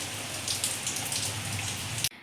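Rain pours steadily outdoors during the rainy season, soaking a child's walker left outside; a dense, even hiss of drops runs close and continuous, then cuts off abruptly near the end.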